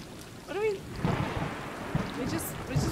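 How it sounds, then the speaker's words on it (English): Steady rain with low rumbles of thunder fills a scene in the video game Stray, a soft continuous wash with occasional deeper booms, while a voice briefly makes a rising sound early on. "We're just watching the rain."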